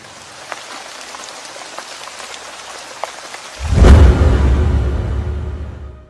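Rain falls as a soft, steady patter with scattered drops, then swells abruptly into a loud, heavy downpour roar that slowly eases toward the end.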